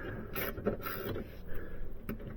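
7mm socket wrench turning a trim panel bolt near the parking brake release inside a 1999–2006 Chevy Silverado, with quiet mechanical clicks and ratcheting scrapes close by.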